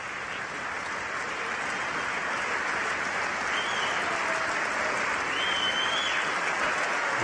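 Lawmakers in the House chamber applaud President Trump at his first State of the Union address, a sustained, even roar of clapping from a large crowd that holds steady throughout.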